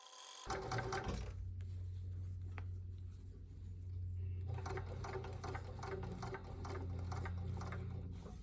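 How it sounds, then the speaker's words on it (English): A regular Juki sewing machine stitches small pleats on drapery, running as a steady, fairly quiet mechanical whirr that holds for several seconds. "I'm stitching some little baby pleats on my regular Juki machine"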